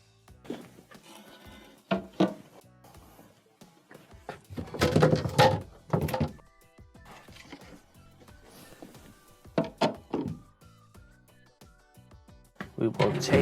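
Refrigerator shelves are lifted up and pulled out of the fresh-food compartment during a repair for a not-cooling fault. Scattered plastic clunks and knocks come up close, mixed with ongoing talk.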